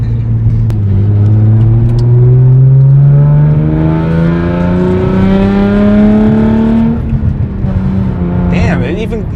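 A modified Hyundai Genesis Coupe with the 3.8 engine accelerates hard and close, its exhaust note climbing steadily in pitch for several seconds before easing off near the end, with a loud, continuous engine drone throughout.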